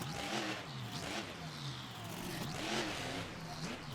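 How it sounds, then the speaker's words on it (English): A monster truck engine revs hard during a freestyle run at an arena event in Atlanta, surging and falling in repeated roaring waves, moderately distant with crowd and arena ambience around it. "Wade Forbes with a great sky wheelie there over that starting pad"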